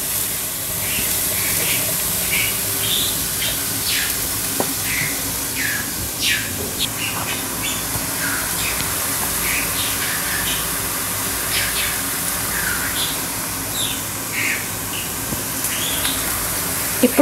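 Mushrooms fry in a pan while their released water boils off, giving a steady hiss with scattered crackles and pops throughout, near and continuous without any talking.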